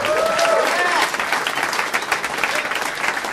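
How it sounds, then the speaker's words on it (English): Applause from a podcast audience greets comedian Tom Segura, the Your Mom's House host, as he comes on; a dense, steady wash of clapping with some whistling and crowd noise near the start. "Big round of applause for Tom Segura, everybody."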